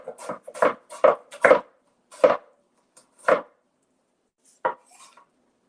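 A knife slicing through food on a cutting board, with a quick cluster of four firm chops followed by slower, spaced single cuts, close up and with no talking.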